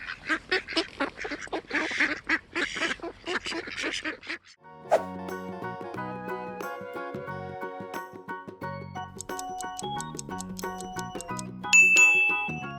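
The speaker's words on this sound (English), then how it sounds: "the answer is a duck" A duck quacks in a run of rapid nasal calls that fills the first four seconds, followed by unrelated chiming musical tones with no voices.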